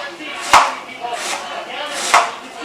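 A knife cuts food rolls into thin slices on a board, with two crisp, sharp chops and a softer slice between them, close and clear against quiet room sound.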